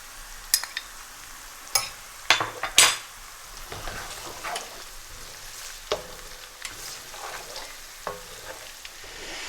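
Turmeric and coriander powder fry in a hot pan while a utensil stirs and scrapes, with a soft sizzle beneath repeated sharp clinks and scrapes against the metal.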